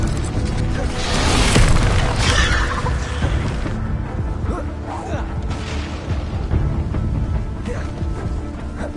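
Casting the Incendio fire spell in Hogwarts Legacy lets out a loud, roaring burst of flame that swells early on, then trails into crackling, rumbling bursts and scattered clatter among other combat sounds.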